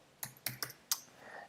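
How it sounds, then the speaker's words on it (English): Several separate computer keyboard keys pressed in a short irregular run, crisp close clicks in a quiet room with a fainter clatter trailing off at the end. "I press the keyboard in order to run this"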